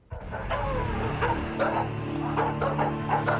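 A dog barks repeatedly in short bursts amid a low, steady hum of traffic or machinery, with faint voices in the background.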